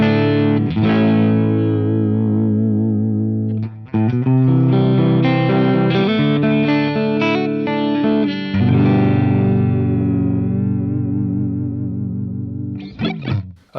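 An Ibanez RG2620 electric guitar on its hot neck pickup plays through a Marshall SV20H with a fairly clean tone, loud sustained chords and single-note phrases with shimmering chorus-like warble, alone without talk.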